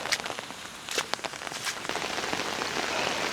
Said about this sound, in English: It's pouring down again, and I hear thunder in the background